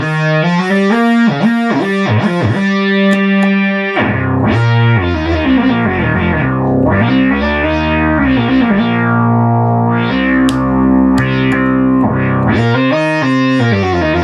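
Restored duophonic Minimoog synthesizer playing all three oscillators together with the filter slightly closed, a loud, continuous buzzy line of shifting notes and swells, with no talk.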